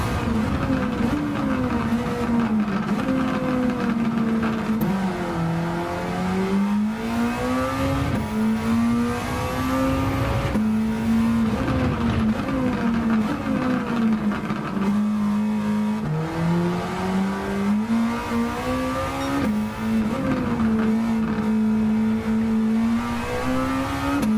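Race car engine in Gran Turismo 7 on a track with a hairpin, revving loudly and continuously as the pitch rises and falls through repeated gear shifts and throttle changes, up close, with no talk.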